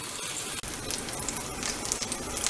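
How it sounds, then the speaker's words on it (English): Protein sears undisturbed in a hot pan, a dense, close, continuous crackling sizzle with fine popping spatter throughout and one split-second dip in volume. "Once it gets that nice sear on it, it will automatically release itself."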